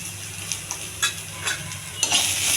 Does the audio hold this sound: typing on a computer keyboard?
no